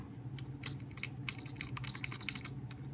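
Fast, irregular clatter of keys on a Windows 10 computer keyboard being mashed at random, a dense flurry of quiet clicks heard close with a faint hum underneath.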